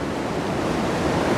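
Rushing white water of rapids on the Richelieu River, water breaking over rocks beneath the surface, a steady broadband roar that is loud and continuous throughout with no talk.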